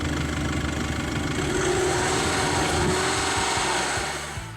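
A Volkswagen Polo GT TDI's 1.6 litre four-cylinder diesel engine runs at a steady idle, a close continuous low clatter with a faint knocking texture and no voices.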